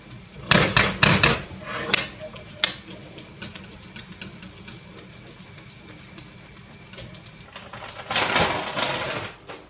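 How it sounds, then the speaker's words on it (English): Fried canned beans being mashed in a pan, heard as heavy repeated thuds and scrapes in uneven bursts over a faint sizzle, loudest at the start and again near the end, close with no voices. "So just so I just fry them up for a couple of minutes and then just mash them up."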